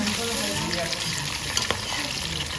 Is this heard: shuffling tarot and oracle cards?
no